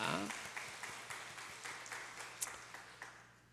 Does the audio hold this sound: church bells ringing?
no